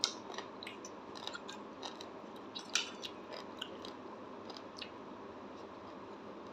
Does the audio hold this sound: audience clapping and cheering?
no